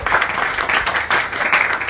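An audience at a Hindi poetry recital about Lord Ram gives a short, loud burst of clapping. The applause is dense and close, with slight surges.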